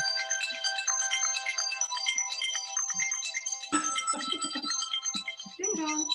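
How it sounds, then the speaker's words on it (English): A telephone rings with a bright repeating electronic tone that keeps going throughout, fairly loud, while people talk in a floral design class setting. "The phone is going."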